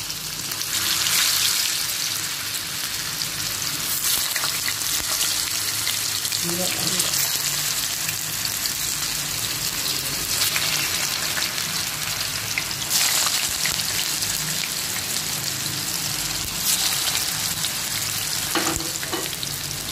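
Palak vadi (spinach fritters) frying in hot oil over a low flame, a steady close crackling sizzle running the whole time with occasional brief spatter bursts, and a voice speaking briefly over it.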